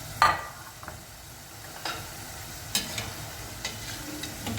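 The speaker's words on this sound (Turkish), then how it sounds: "Patates kızartıyorum arkadaşlar." Potatoes fry in plenty of oil in a pan, giving a steady close sizzle with occasional stirring scrapes and clicks, and no talking.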